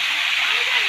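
Chopped vegetables hit hot oil already seasoned with a bay leaf and cumin, giving a steady, loud, broadband sizzling hiss that carries evenly through the short moment.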